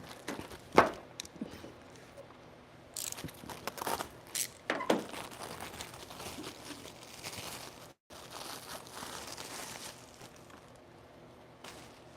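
Plastic bag wrapping a China-made air filter for a 2017 Toyota 4Runner crinkling and rustling close up in several irregular bursts, with quieter handling noises between them.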